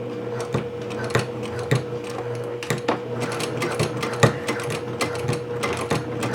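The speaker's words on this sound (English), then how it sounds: "So I'm going to start at the top, and I'm going to sew fairly close to the edge." A sewing machine stitches a courier bag near its edge with a 2.5 length stitch, running in a steady mechanical whir broken by short, sharp clicks and bursts of needle action, close and alone.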